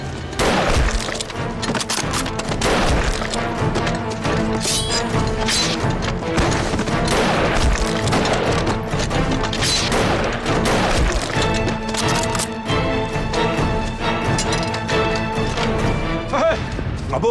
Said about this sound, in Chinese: 开枪是我。